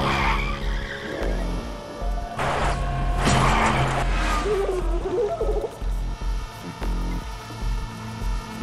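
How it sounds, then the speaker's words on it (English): A car driving off with skidding, squealing tires in the video game Stray, loud continuous tire screech and engine noise with whining pitch sweeps, heard alone without talk. "Get on the car. Quickly, drive, Clementine."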